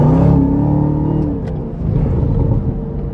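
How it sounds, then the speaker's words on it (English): A 2024 Chevrolet Camaro ZL1 Convertible accelerates hard, its exhaust roaring loudly and close with a rising growl and a brief crackle. "listen to that backfire"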